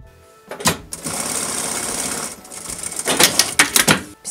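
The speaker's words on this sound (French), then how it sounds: "je vais vouloir venir coudre à la même couture que je viens de faire." A sewing machine stitching a seam on a fabric pencil roll case, a close rapid mechanical whir running in steady bursts, broken by brief pauses and clicks.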